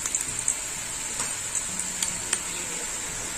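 Ginger-garlic paste sizzling in hot oil in a pan after onions have been fried, for a katla fish-head dish; a steady close hiss with a few sharp crackles and light stirring clicks.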